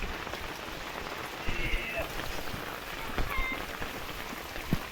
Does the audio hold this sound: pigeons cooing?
no